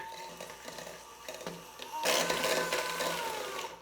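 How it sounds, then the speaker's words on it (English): A cordless blender's motorized whirring kicks in partway through, a loud buzzing blend of grinding and churning that keeps going steadily to the end. "mix it up with our handy dandy blender"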